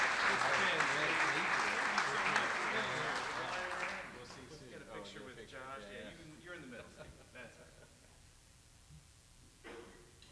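Audience at a Rotary meeting applauding to welcome a speaker, a loud burst of clapping that fades away after a few seconds, followed by a voice speaking in the room.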